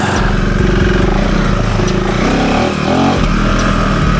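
A KTM 390 Enduro R motorcycle engine is revved with a snappy, responsive throttle. The single-cylinder engine runs loud and close, with quick rises and drops in pitch, and there is steady wind rush throughout.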